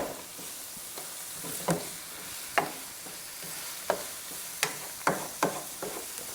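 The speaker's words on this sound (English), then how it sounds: "And we are sautéing seasonings." Scallion, onion, garlic and ginger sauté in hot coconut oil in a Jamaican kitchen, a steady close sizzle broken by several scraping spoon strokes at irregular intervals.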